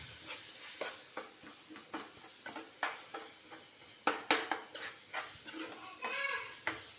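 Small cut mango pieces sautéing in a pan, a quiet hissing sizzle punctuated by repeated stirring scrapes and taps, louder clatters near the middle, with no speech.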